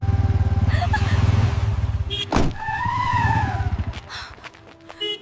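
A motorcycle engine chugs steadily up close, then a sharp skid bursts out, followed by a rising whine and rumbling revs as the rider pulls away.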